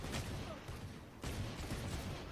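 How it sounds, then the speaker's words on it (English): Rapid gunfire from Valorant rattles through a steady, noisy battle din, with a sharper burst of shots partway through; the firing sounds fairly distant and muffled rather than crisp. "Again, shooting too fast there."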